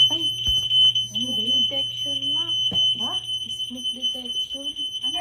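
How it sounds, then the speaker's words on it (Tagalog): A smoke detector inside a smoke-filled pharmacy shrills a steady high electronic tone without a break, while several people talk over it nearby. "nag-alarm pa nga dito yung smoke detector kasi sobrang usok nga sa loob"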